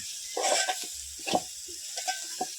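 A spoon stirs a sizzling tempering of onion, garlic, chili and tomato with spices in a pan, giving several close scraping strokes over a soft hiss.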